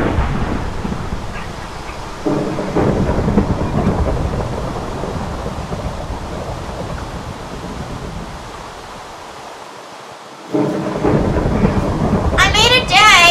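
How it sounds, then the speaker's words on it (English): Minecraft thunderstorm: rumbling thunder rolls through steady heavy rain, with a louder crack near the end and a brief high chirping sound over the storm. "I made it day, but I still hear lightning."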